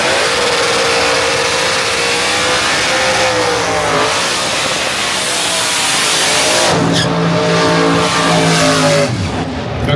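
Doorslammer drag racing cars launching at the start of a Pro ET / Super Gas / Pro Comp quarter-final at a drag strip, a loud sustained roar of revving engines that rises as the cars pull away, with a second burst of engine noise near the end.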